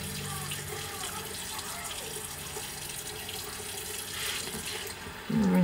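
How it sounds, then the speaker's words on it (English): Tap water running steadily into a sink while a face is rinsed, a continuous close splashing rush with faint shifts as the hands move through the stream. "Rinse it off."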